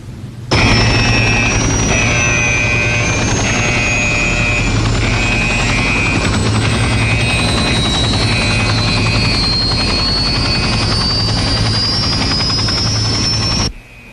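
Loud, continuous helicopter noise from the 1981 film Escape from New York, with a steady rotor throb and engine whine, close and unbroken for over ten seconds.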